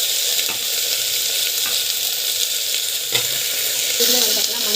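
Taro root sautéing with tomato and spices in a pan, a steady close hiss of frying with occasional soft stirring scrapes, no voices.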